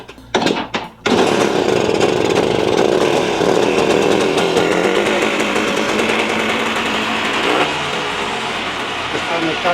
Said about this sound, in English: Let's give this a few kicks and we'll see what happens.